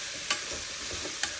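Capsicum added late to a desi-style white sauce pasta fries in a pan with a constant soft sizzle, and two brief scraping stirs stand out against it at close range.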